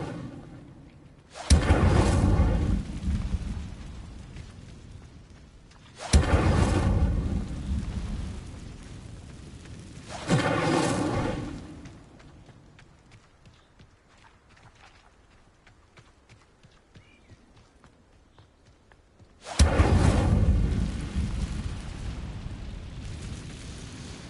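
Four fiery Incendio spell bursts go off in Hogwarts Legacy, each a loud roaring whoosh that fades out over a few seconds. They are widely spaced, and a long quieter stretch comes before the last one.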